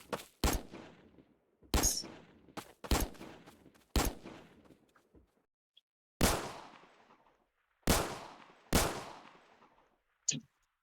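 Gunshots at shooting practice on targets, about nine sharp, loud single reports spaced irregularly over several seconds, each followed by a brief echoing decay, with silence between shots.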